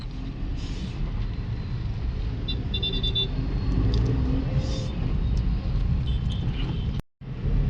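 A car driving on a road makes a steady low rumble of engine and tyre noise that runs close and unbroken, with a brief dropout near the end.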